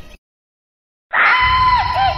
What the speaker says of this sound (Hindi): तभी सुनसान पार्क पड़ाव ने चीखों से गूंज उठा।